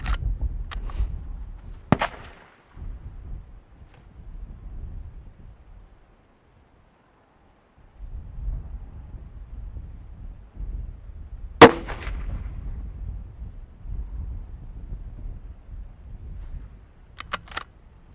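Gunshots from a rifle while fire forming cartridge brass, a few sharp isolated cracks spaced seconds apart over a low rumbling outdoor background.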